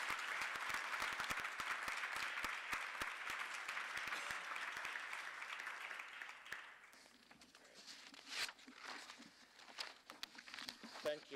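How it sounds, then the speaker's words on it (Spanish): Audience applause at a conference on the post-2015 agenda and migration, a dense, even patter of many hands for about seven seconds that then breaks into sparse individual claps, with faint voices underneath. "De nuevo, otra salva de aplausos"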